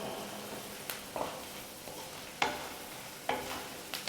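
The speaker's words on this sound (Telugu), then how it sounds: "క్రిస్పీగా అయ్యే వరకు వేయించుకోవాలి కరివేపాకు." Curry leaves crackle in hot oil as a tempering for Andhra garlic gongura pickle, with a soft steady sizzle that is close and quiet. Sharper clicks of stirring break through every second or so. No one speaks.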